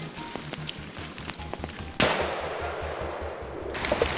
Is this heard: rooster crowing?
no